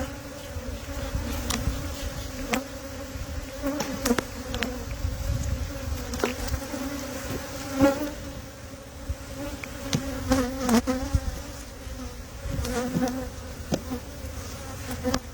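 Honey bees buzz steadily close by in a continuous droning hum, with sharper passes of individual bees flying near and away throughout.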